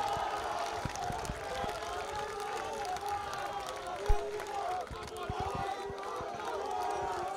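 Spectators at a school rugby match between Bishops Diocesan College and St. Andrew's College second XV teams, a lively crowd roaring and cheering steadily in the distance, with a commentator's voice talking over it.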